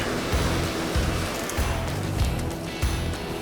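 Ocean waves washing against a rocky shore in winter, a continuous hiss of surf broken by several low, thumping surges as water breaks over the rocks.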